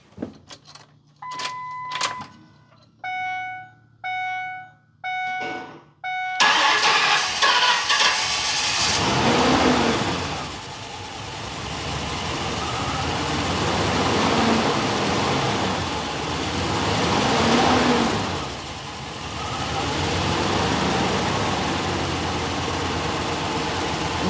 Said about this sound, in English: Now I just started idling her off.